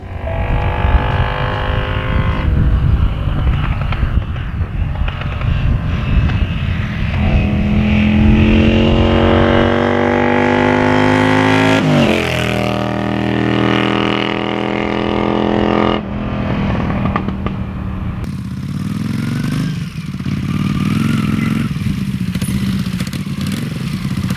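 A 1981 Honda CX400C motorcycle engine runs close by, idling then revving up and down with rising and falling pitch, loud and continuous with no talking.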